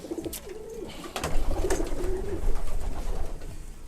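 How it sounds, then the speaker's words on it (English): Racing pigeons coo inside a loft in England, repeated low throaty calls rising and falling over a background of rustling, with the cooing growing fuller and more continuous partway through. "I'm trying to find the sprint pigeons because they're much bigger"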